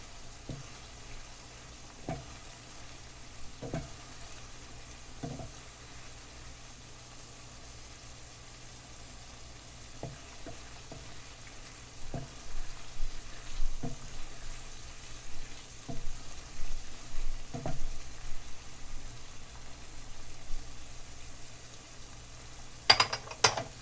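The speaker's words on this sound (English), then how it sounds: "So let me just mix that in." Flour, about 1.5 tablespoons, is stirred into sizzling shepherd's pie filling of beef in a pan. Scattered spoon knocks come first, then a denser stretch of scraping and frying that ends in a few louder clanks.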